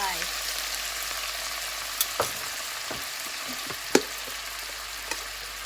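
Wild vegetables stir-fried over high heat with oyster sauce in a wok, a constant close sizzle punctuated by occasional metallic clinks and scrapes of the spatula.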